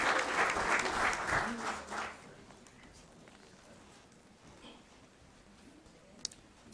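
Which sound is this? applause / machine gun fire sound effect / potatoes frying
applause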